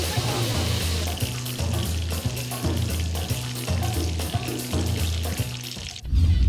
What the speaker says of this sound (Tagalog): binalot na lang ng kanilang special breading mix at saka iprinito.